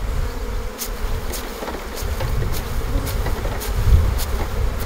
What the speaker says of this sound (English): these bees do have potential to be quite annoyed with me